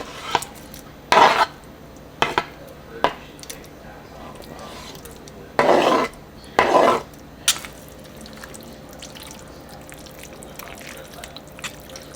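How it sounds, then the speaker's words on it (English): Steak bites dropped and stirred into a pan of tortellini pasta, a series of scraping clanks and short wet stirring bursts from a utensil against the pan, with quiet gaps between. "now we're gonna add the steak bites back in"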